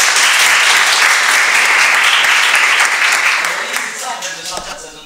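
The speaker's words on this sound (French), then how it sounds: "On peut les applaudir." A crowd at a conference bursts into loud, dense applause close by. It holds steady, then thins and fades toward the end as a few voices start to come through.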